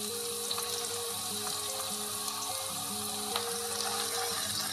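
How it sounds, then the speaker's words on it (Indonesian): Shallots and garlic frying in hot oil, a steady close crackle and sizzle with a faint running hum underneath, continuous with no talking. "Sekarang saya sudah panaskan minyak, kemudian kita masukkan dulu bawang merah dan bawang putih."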